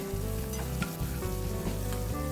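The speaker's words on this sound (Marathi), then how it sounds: "कांदा छान भाजून घ्यायचा" Chopped onion sautés in a pan for dahi tadka, a close, steady sizzle with constant crackle and a low rumbling undertone throughout.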